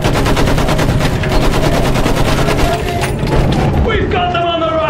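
Battlefield 1 battle on the trenches: a sustained, loud burst of rapid machine gun fire rattles continuously for several seconds, dense and close, with shouted voices mixed into the din and fading near the end.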